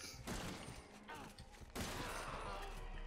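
Shotgun fire in the video game Resident Evil 7, two heavy blasts about a second and a half apart, each followed by a mechanical pump-and-reload clatter, loud and close.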